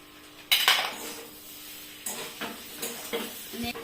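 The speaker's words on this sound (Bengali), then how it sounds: "এই যে আমি নেড়ে নিচ্ছি, ভালো করে ভেজে নিচ্ছি।" A utensil clanks against a pan while samosa filling without onion or garlic, seasoned with kasuri methi, is stirred and fried, giving a few sharp metallic scrapes and knocks over a soft background sizzle.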